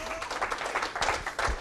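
A brief burst of audience applause at a member showcase talk: scattered hand claps mixed with crowd noise and some voices.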